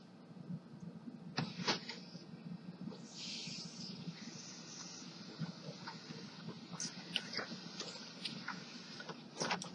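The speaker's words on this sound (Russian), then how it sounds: "Распечатываются тестовые страницы." A Ricoh SP-150 laser printer runs off test pages with a steady low mechanical hum, soft clicks and ticks, and brief rustling bursts as paper feeds through, heard close and at modest volume.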